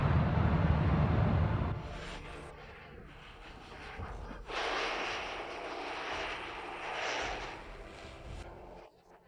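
A small two-seater propeller airplane's engine drones steadily in flight during an engine failure, loud at first, then softer with shifting, rising and falling intensity.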